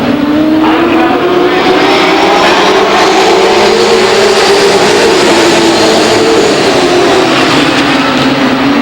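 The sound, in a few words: race cars accelerating on a raceway track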